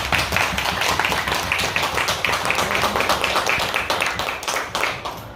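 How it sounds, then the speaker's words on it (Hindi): An audience claps and applauds at a voter awareness event for disabled voters in Aurangabad, Bihar, with a dense, steady round of hand claps filling the room throughout. "और एक बार प्रवीण सर के लिए कस के ताली बजाइए"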